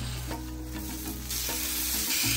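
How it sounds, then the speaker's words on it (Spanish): Sausages sizzle steadily in hot butter and olive oil in a pan, a close, continuous frying hiss that grows slightly louder partway through, with faint stirring and no talking. "Y las vamos a freír e ir moviendo constantemente"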